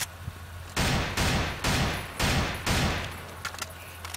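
AK-74 rifle fire in the video game CrossFire: four loud, sustained bursts of automatic gunfire in quick succession, each a dense rattling block, followed by a few scattered fainter shots.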